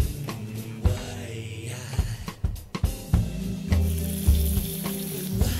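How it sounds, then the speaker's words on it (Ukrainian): Meat frying in a generous amount of oil, a steady crackling sizzle with occasional stirring knocks, heard close and alone without talk. "Злегка обсмажимо його у великій кількості олії."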